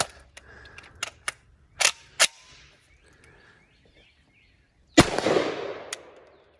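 Shots ring out from a Marcolmar Spanish CETME LC rifle firing reloaded ammunition outdoors, a handful of sharp cracks spaced unevenly across the first few seconds, then one loud blast with a rolling echo near the end.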